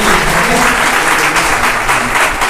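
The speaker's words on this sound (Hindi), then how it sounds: "क्यों ना जोर से ताली बजाए" A congregation at a church morning session applauds, dense and loud, a sustained wash of clapping at full strength from start to finish.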